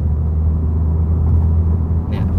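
Car engine held at a steady light throttle during tuning, a constant low rumble close by, with a brief brighter burst near the end.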